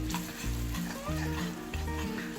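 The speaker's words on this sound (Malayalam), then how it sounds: "ഇത് ഒന്ന് ആ ചെറിയ ഉള്ളിയും വറ്റൽമുളകൊക്കെ ഒന്ന് ഇതിൽ മൂക്കണം" Shallots and dried red chillies fry in hot oil with a loud, close sizzle and spatter, while a rhythmic tonal hum repeats underneath.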